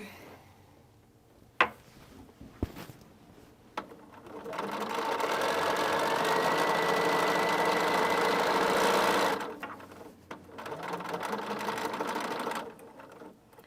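A sewing machine stitches a strip-pieced chevron quilt, running slowly over fine pins in one steady, continuous burst of motor whir and needle chatter, close up, framed by brief handling clicks and quieter stitching afterward.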